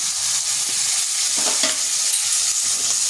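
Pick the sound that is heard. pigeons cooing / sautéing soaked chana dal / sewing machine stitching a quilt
sautéing soaked chana dal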